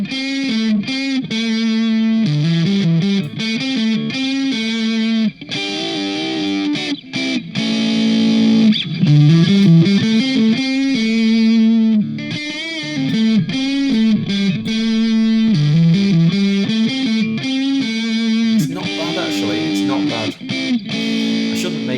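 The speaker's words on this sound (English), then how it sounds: "That's not a distortion pedal turned all the way down," Loud, continuous riffing on an electric guitar run through a Boss DS distortion pedal plugin, with gritty sustained chords and quick note changes that carry steadily through the whole stretch.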